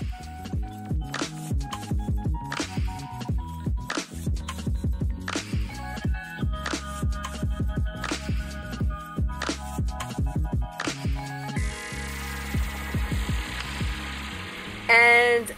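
A sewing machine stitching the second pass of a hem on a homemade cotton tea towel, its needle mechanism chattering in a steady, fast rhythm up close, with a brief change in motor tone near the end.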